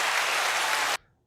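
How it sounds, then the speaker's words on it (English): A canned round of clapping from a podcast soundboard, a dense burst of applause at steady loudness that cuts off abruptly after about a second, leaving near silence. "there's like the clapping"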